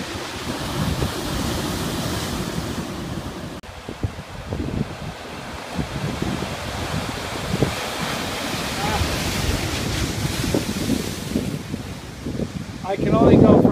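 Ocean waves wash and surge onto Morro Strand State Beach near Morro Rock, Morro Bay, with gusty wind buffeting the microphone, a wave swelling louder near the end.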